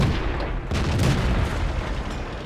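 Heavy, booming gunfire from a 105mm howitzer in the tank combat game World of Tanks, a loud, close discharge with a deep rumbling tail and continuous battle noise throughout.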